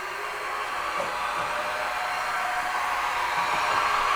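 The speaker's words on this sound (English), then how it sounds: "We're going to start here. You'll see everything move, spindle up and down, automatic tool changer, running really nicely." A used Haas VF-5/50 CNC vertical machining center runs a cycle, its spindle and automatic tool changer moving, giving a steady, even broadband whir and hiss that holds at one level throughout with no talk.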